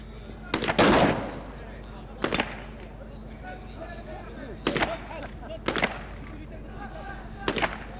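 Submachine gun and shotgun fire at the UAE SWAT Challenge 2024 competition, several loud, sharp bursts and single shots spread irregularly over a low steady hum, with faint voices in between.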